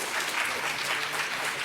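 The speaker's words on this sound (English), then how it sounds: "you can clap if you want" Audience applause fills a conference auditorium at a national HR conclave at KIIT in Bhubaneswar: steady, dense clapping from a large crowd, loud and continuous throughout.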